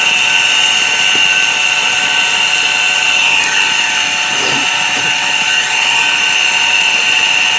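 A jet pump drawing well water through a homemade well-water filter runs steadily, a loud continuous motor whine with a bright tonal hum that holds level throughout, with no talk.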